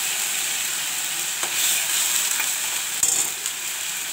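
Tomato frying in a pan with chili paste, ginger paste and a splash of water makes a strong, constant sizzling hiss, close by, with a couple of light clinks from stirring.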